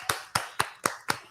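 Six sharp hand claps in a steady rhythm, close and crisp, each evenly spaced about a quarter second apart in a quiet room during a podcast conversation.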